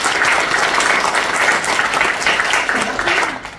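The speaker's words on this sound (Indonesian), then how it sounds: "saya minta tepuk tangan ya" Applause at a hospital ceremony in Majenang, a steady burst of many hands clapping, loud and sustained throughout before tapering slightly at the close.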